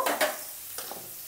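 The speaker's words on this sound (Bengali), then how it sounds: "তো প্রথমে আমি সয়াবিনগুলো ভাজবো।" Soybeans fry in a pan with salt and turmeric, giving a brief, soft sizzle with a couple of quick scraping stirs at the start and lighter clinks after.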